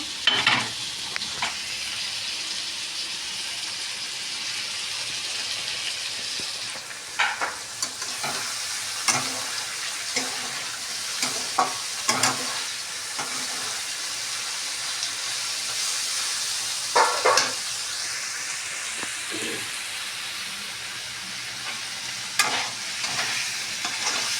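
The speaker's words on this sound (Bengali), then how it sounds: "লঙ্কা কুচিটাও দিয়ে দিয়েছি এবারে একটু ভালো করে ভেজে নেব" Chopped tomato and green chilli fry in oil for vegetable chow mein, a steady sizzle broken by repeated scraping stirs of a spatula in the pan, with no talking.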